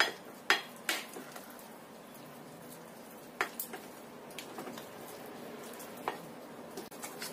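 A utensil stirs a cheese, margarine and butter mixture in a bowl, with soft scraping and occasional sharp clinks against the bowl, quiet and close, with no talking.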